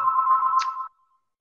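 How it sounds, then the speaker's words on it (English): A telephone rings once nearby with a steady electronic tone lasting under a second, then stops, leaving silence. "sorry about the ringing phone"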